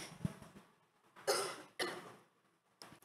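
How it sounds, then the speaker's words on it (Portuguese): A person coughs in a few sharp, separate bursts at close range, with quiet pauses between them and no talk. "Estou tossindo bastante, então desculpa aí."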